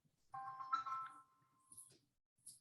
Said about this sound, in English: Someone's phone in my home is going off